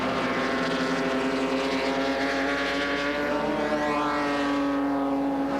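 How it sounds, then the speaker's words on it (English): A Mazda Miata race car runs at Road Atlanta, its engine a loud, steady, continuous drone with a rising pitch sweep near the end as it passes close. "That is a Mazda Miata"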